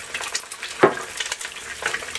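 Two eggs sizzle in a frying pan with a little salt, a steady low crackle with one brief louder burst near the middle, close and without talk.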